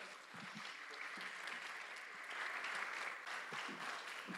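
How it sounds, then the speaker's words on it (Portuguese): Audience applause for the participants of a stage hypnosis show, a steady wash of many hands clapping that holds for the whole stretch at moderate loudness, with no one talking over it. "uma salva de palmas para os nossos astros"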